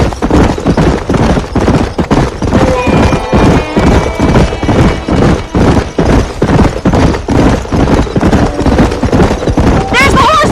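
Horses in the video game Red Dead Redemption: steady hoof clip-clop runs throughout alongside an occasional neigh, with game music and voices talking over the loud, busy scene.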